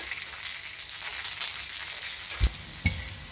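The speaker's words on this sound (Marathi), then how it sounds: "2 मिनिटं मी मिरची आणि लसूण परतून घेतलेला आहे" Green chilies and garlic sauté in oil over a medium flame, a steady hiss of sizzling frying with two sharp knocks of a spoon against the pan near the end.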